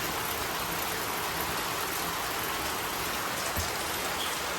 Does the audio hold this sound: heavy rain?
yes